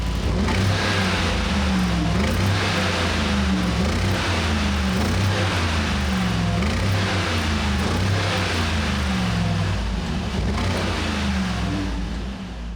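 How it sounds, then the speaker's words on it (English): A 2025 Mercedes-AMG G63 twin-turbo V8 revs while parked, its rumbly exhaust rising and falling in repeated throttle blips over a steady deep idle, loud and close. "The twin-turbo V8, you can't rev it all the way up in park, but you get a little bit of an idea of the rumbly exhaust note."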